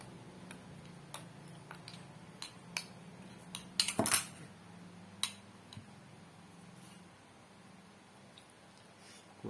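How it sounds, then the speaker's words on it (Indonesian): Thick cabuk rambak sauce stirred in a pan, with irregular light clicks and taps of a utensil on the pan and one louder scraping knock in a quiet setting. "Nah, seperti ini diaduk terus"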